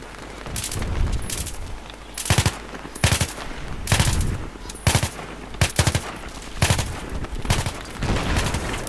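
Rapid bursts of gunfire in the video game Battlefield 3 crack repeatedly, loud and close, in irregular volleys with brief gaps, like automatic weapons in a firefight.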